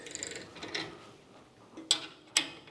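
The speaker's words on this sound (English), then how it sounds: "the first thing we're gonna do is loosen these nuts up on the back. 16 millimeter wrench." A 16 mm wrench loosens nuts on the back of a Toro DPA reel cutting unit, giving soft metallic clicks and rattles followed by two sharp, bright metal clinks near the end, close up with no talking.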